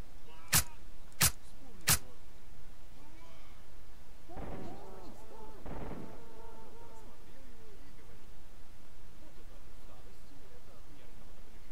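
Gunfire in the S.T.A.L.K.E.R. Lost Alpha video game: three sharp shots in quick succession, followed by someone speaking over the low game ambience.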